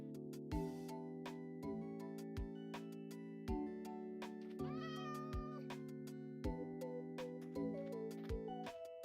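A Minecraft cat meows repeatedly in short, clear calls at irregular intervals, close and prominent over a soft sustained musical tone, with no talking.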